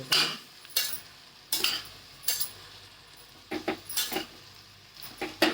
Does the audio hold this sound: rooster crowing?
no